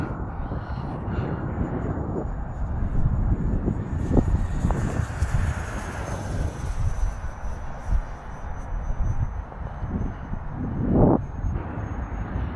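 An FMS F-18 64mm electric ducted-fan model jet flying in cold, windy conditions whooshes at full throttle, a steady mid-distance roar mixed with heavy wind buffeting on the microphone.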